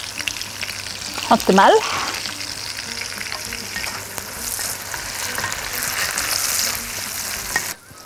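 Corn frying with onions in a pan, a steady close sizzle with stirring scrapes throughout, a brief spoken remark near the start, then a sudden drop at the end.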